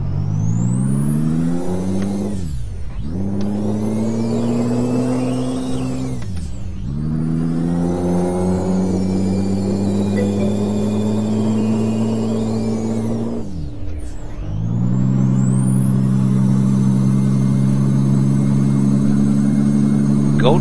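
A Peterbilt 389 truck engine in a driving video game pulls hard through several gears, each rising whine dropping sharply at a shift before climbing again; loud, close and continuous.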